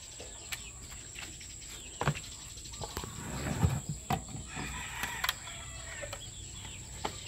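Bulik chickens cluck and scratch in short, scattered bursts over a constant high insect-like whine, fairly quiet and a little distant.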